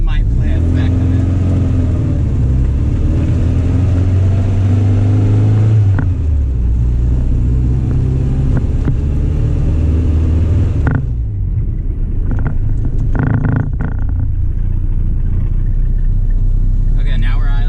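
A rattly 1978 Triumph Spitfire engine idles unevenly, its rumble surging and sagging as it hunts for idle, heard steadily and close for most of the stretch, with a voice talking over part of it.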